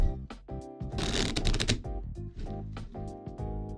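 A deck of tarot cards being shuffled close by, a rapid papery riffle and flutter with soft taps, while music with sustained tones plays underneath throughout.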